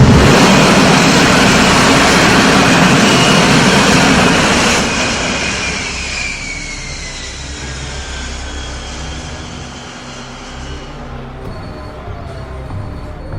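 An X-Men cartoon jet coming in to land makes a loud engine roar that winds down and fades partway through, ending in a quieter, lingering whine.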